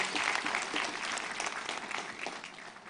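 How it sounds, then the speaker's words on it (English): An audience at a live inauguration event gives a sustained round of applause, a dense wash of many hands clapping that stays fairly loud throughout and eases slightly toward the end. "Another big round of applause, ladies and gentlemen."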